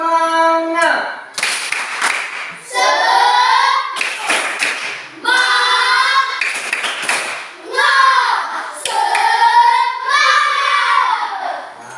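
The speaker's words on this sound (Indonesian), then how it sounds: "Tepuk semangat." A primary class of fourth graders performs tepuk semangat, bursts of rhythmic group clapping in set patterns, alternating with children chanting along in unison between the clap sequences.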